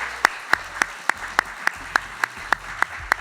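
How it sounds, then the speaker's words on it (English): Sharp, evenly spaced claps from a live studio audience at a Colchester, Vermont radio event, about a dozen distinct hand claps in a steady rhythm roughly every quarter second over a quiet background. "One more round of applause."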